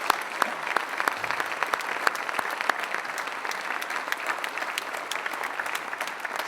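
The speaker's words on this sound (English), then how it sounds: "I'd like just to have us all give them a round of applause one more time." Audience at a university real estate competition applauds the teams, crisp overlapping claps forming a steady, moderately loud ovation in a hall.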